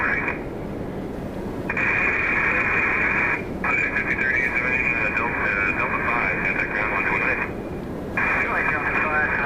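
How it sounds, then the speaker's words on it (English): A Boeing 747 freighter departs with a loud, sustained jet roar. The sound is narrow and radio-like, dropping out briefly twice before swelling back. "I'm never going to complain about a 747 departure"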